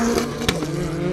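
A Mark 1 Ford Escort at a drag racing event, its engine holding a loud, steady high-revving drone with a brief sharp burst in the middle.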